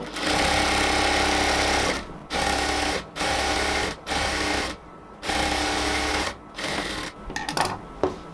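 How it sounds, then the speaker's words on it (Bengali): A sewing machine double-stitches a salwar in several bursts of steady, loud whirring, each run a second or two long and broken by short pauses, with shorter irregular bursts near the end. "আমরা এটাকে ডাবল সেলাই দিয়ে নেব।"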